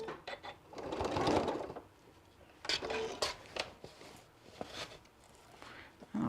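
A sewing machine stitches an adult bib near the fabric edge, giving short bursts of rapid mechanical whirring separated by pauses, fairly quiet and close.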